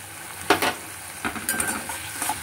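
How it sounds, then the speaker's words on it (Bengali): A utensil stirs onion and tomato frying in a pan for mustard-sauce tengra fish curry, giving a soft sizzle with a few scraping strokes close by and no talk. "আবার নাড়াবো, খুব ভালো করে নাড়াবেন যেন সবের সাথে মেশে"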